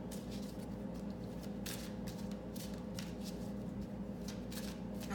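Tarot cards are shuffled by hand during a reading in a close, steady, papery riffle with soft rhythmic flicks that runs continuously and quietly.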